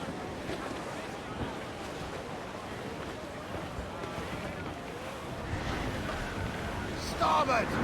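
Gale-force wind and crashing waves at sea in the video game Assassin's Creed Black Flag, a continuous loud roar of wind and surf that swells toward the end, with voices faintly in the mix.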